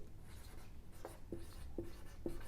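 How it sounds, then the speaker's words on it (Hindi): Chalk or marker tapping and scratching on a board during a chemistry lecture on NMR, a few short crisp strokes in a quiet room. "मैं इसको यहां पर लिखता हूं"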